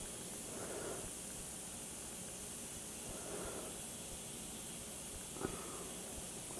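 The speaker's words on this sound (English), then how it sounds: "So I'm losing just a ton of steam out of there." Steam leaks from a stovetop water distiller as a faint, continuous hiss, with a few soft surges and one small click partway through.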